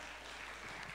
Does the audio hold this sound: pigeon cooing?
no